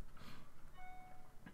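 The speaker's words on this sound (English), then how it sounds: "that was the sound of my phone getting an email" A phone chimes with an email notification: a short, quiet tonal ping that rings for about half a second over low room noise.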